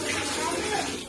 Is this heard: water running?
yes